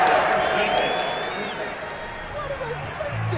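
Stadium crowd at a football game reacting to a roughing penalty call against the home team, a broad continuous roar of voices with a commentator talking over it near the start.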